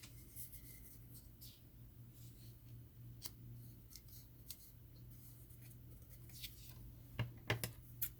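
Scissors snip and trim around a sublimation print being fitted to a speaker tumbler, a quiet run of small cutting sounds and a few sharper clicks near the end, over a steady low hum.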